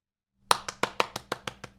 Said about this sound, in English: Your adoring audience sits and claps for you.